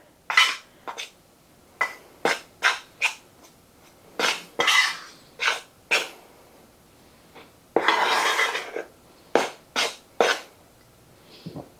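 A utensil clinks and scrapes against a bowl while cornstarch is stirred into dry ingredients, a series of sharp, close taps in irregular rhythm with one longer scraping swirl partway through.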